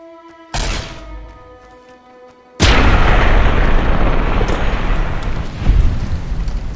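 Gunfire in modded Fallout: New Vegas on PC: a sharp blast, a short lull, then a second heavy boom that rolls into a long, loud, rumbling roar with a few further thumps.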